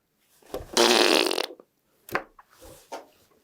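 A fart sound effect in a baking-show podcast: a loud, buzzy, sputtering blast of about a second, then two shorter, softer squelchy bursts, with no speech.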